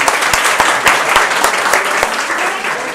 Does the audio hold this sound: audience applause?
yes